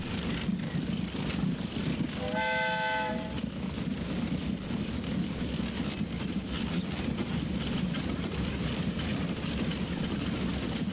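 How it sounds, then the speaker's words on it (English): A train in the Transport Fever video game rolls along with a steady rumbling drone, and a short horn blast sounds near the start over the continuous running noise. "Here comes the train."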